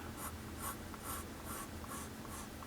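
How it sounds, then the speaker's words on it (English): A graphite pencil strokes across paper in a steady series of soft, evenly spaced scratches, quiet and close, with no talking. "if we come back in with our graphite pencil, what we're going to do is we're going to start on this bottom eyelid"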